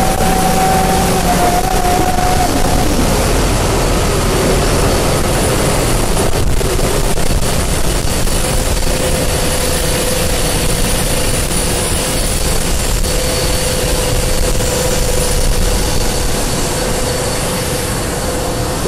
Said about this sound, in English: So here's cargo loading in progress right now.